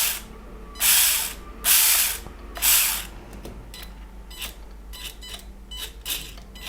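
A WLtoys 1/28-scale RC car's small electric motor and gears whir in three loud bursts driving forward and reverse, followed by a series of shorter, fainter clicking ratchety spurts, close up with no talking.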